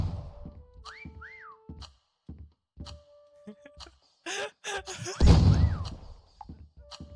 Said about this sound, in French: siffle, Arthur.